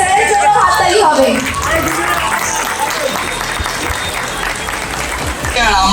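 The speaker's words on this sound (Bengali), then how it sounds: "সবাই একটা স্যারের জন্য হাততালি হবে।" A crowd at a spring festival applauds the director of a computer academy with a dense, loud burst of clapping that holds steady, while a voice speaks briefly at the start and again at the end.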